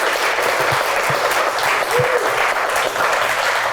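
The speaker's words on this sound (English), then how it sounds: "Why don't we give Jim and Gus, God rest his soul, a big hand, a round of applause." Audience applause at a 20th anniversary celebration, a dense steady wash of many hands clapping close and loud from start to finish.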